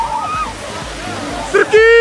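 Cold water sprays steadily over a person showering at a 2014 summer obstacle race, a continuous rushing hiss, with voices rising loudly near the end.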